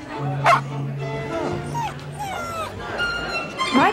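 A dog at a party yips and whimpers close by in a string of short, high barks and whines, with a steady hum underneath and people's voices around it.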